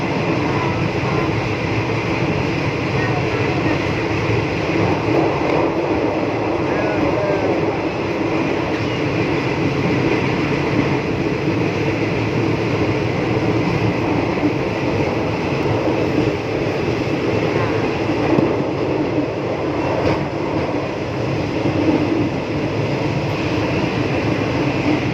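A train running on rails, heard from inside a carriage on the route to Pattani, makes a continuous loud rumbling and rattling drone that holds steady throughout with no talking.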